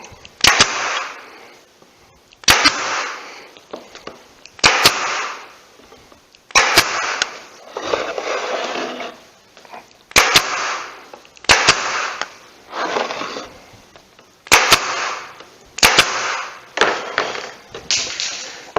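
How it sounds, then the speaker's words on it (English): A pneumatic pin nailer fires triangular pins into an oak picture frame, giving about eight sharp, loud cracks at roughly two-second intervals, each followed by a hiss of air. "So I got one of those guns, and those go in there like that."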